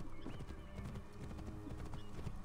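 Horse hooves clip-clop steadily in the Assassin's Creed Discovery Tour game set in ancient Egypt, an even walking rhythm of close, moderately loud hoofbeats with no talk over them.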